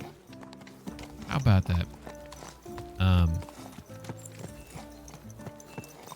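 Horse hooves clip-clopping in Kingdom Come: Deliverance 2 on Hardcore Mode, with a mercenary rider approaching, steady hoof beats with a couple of louder nearby thuds, while someone talks briefly over them.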